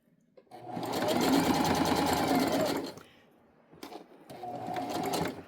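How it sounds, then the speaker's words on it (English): A sewing machine stitching a strap onto a tote bag: a loud, close whirring run of about two and a half seconds, a short pause with small clicks, then a second steady burst. "I'm going to sew the strap on right where that seam is"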